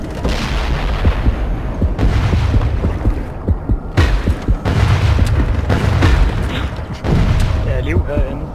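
A player blows up in a video game: a string of loud, booming explosions and gunfire-like bursts, roughly one every second, with voices talking over them.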